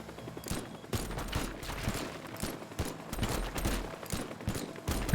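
An enemy firing at the player in a Goosebumps video game, heard as a steady stream of rapid, loud shots with sharp cracks repeating throughout, close and continuous.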